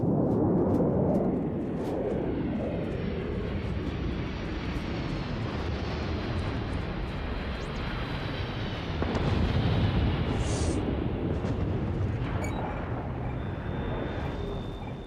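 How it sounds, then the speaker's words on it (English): A spaceship sets down in the Star Wars Genesis video game, a loud, sustained engine roar with a deep rumbling low end that holds steady throughout and swells slightly near the middle, with no talk over it. "Somebody's landing."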